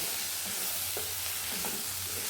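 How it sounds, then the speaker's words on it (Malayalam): Grated coconut stirred into a frying dish, a constant soft sizzle of oil with a few scraping stirs of a spoon against the pan, quiet and close. "ഇതിലേക്ക് നമുക്ക് തേങ്ങ ചേർത്ത് കൊടുക്കാം നമുക്ക് നല്ലപോലെ ഇത് മിക്സ് ചെയ്ത് കൊടുക്കാം"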